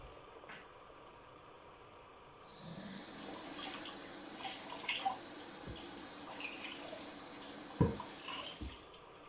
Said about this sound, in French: je viens de rincer ma planche à découper